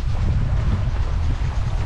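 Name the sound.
strong wind and high waves on the ocean while sailing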